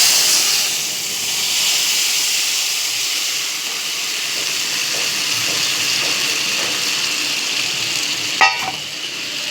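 Spice paste of ginger, cumin, turmeric and salt sizzling in hot oil in a wok, a steady loud hiss and crackle throughout with a brief clatter near the end, no talking.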